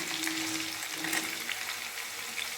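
Sundakkai vathal, dried turkey berries, fry in hot oil in a pan with garlic, giving a steady close crackling sizzle with no voices.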